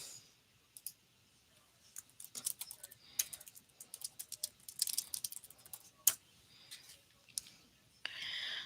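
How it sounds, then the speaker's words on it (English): Typing on a computer keyboard during a birthday live stream: irregular bursts of crisp key clicks, close and fairly quiet, with short pauses between flurries and a brief steady hiss near the end. "So I'm just typing to them."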